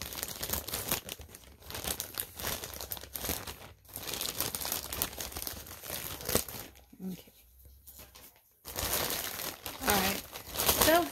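A yarn subscription package is cut open up close with busy crinkling and tearing of plastic and paper wrapping, bursts broken by short quiet gaps.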